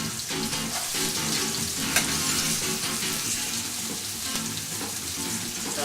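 Rather big pieces of onion sizzle and fry in a pan for a rustic Spanish dish, a steady, dense crackle throughout with faint stirring.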